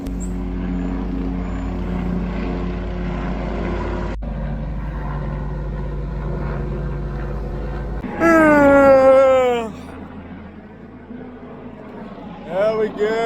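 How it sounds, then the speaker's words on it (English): A low, steady rotor-like rumble fills the first stretch, followed by a rising and falling wail and a bit of distant talk. "Yeah, helicopter."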